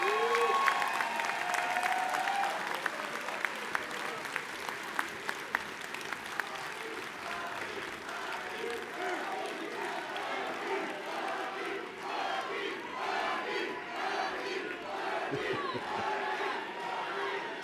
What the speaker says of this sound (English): let's give our residents and alumni all a round of applause